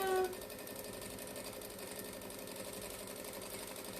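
Sewing machine top stitching a tote bag made from jelly roll strips, a steady fast mechanical hum and rhythmic needle chatter running continuously, close and moderately quiet, no speech.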